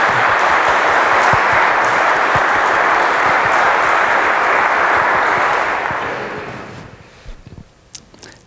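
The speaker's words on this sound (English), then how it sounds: "Can we applaud Gary because of the transition we didn't get to?" A lecture audience claps steadily in a dense, loud round of applause that carries for several seconds before fading out to scattered last claps and quiet room noise.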